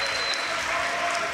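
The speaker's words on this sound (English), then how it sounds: "You can hear the crowd probably going crazy." A dense crowd claps and cheers continuously at the final round of a Yu-Gi-Oh! Championship Series event in Milan, a loud, steady wash of applause filling the whole moment.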